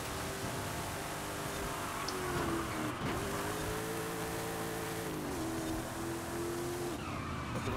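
Tires squeal in a sustained skid as a car slides in the Forza Horizon 5 racing game, the screech wavering in pitch over a steady engine drone for several seconds.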